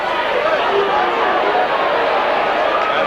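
Rugby league crowd noise at a Warrington versus Castleford match, a steady roar from a large stadium audience reacting throughout, with no clear individual voices.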